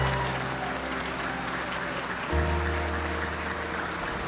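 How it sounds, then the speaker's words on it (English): A crowd applauds the youth top 10 winners at a gingerbread contest, sustained even clapping over a low steady hum, with a brief louder thump partway through. "Let's give one more big round of applause for all of our youth top 10 winners"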